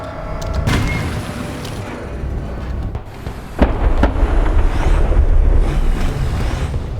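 A tank engine in the War Thunder video game drones as a loud, heavy rumble throughout, with sharp mechanical clanks and distant blasts breaking through; no one speaks.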